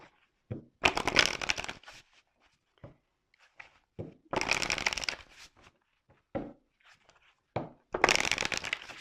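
Tarot cards shuffled in three long riffling bursts with short taps and card handling between, close and fairly quiet, no talking.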